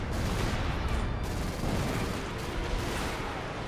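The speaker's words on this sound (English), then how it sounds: "Yellow's just getting barraged to death." An artillery barrage pounds away in Company of Heroes 2: a continuous, dense rumble of shell blasts and gunfire, loud and unbroken for several seconds, with no voices over it.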